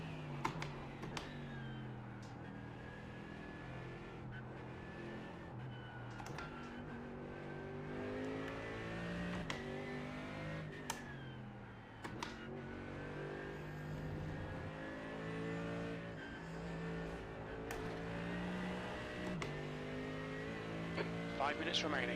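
Race car engine in the iRacing sim, a continuous revving drone that rises and falls under a talking voice, with scattered keyboard clicks throughout.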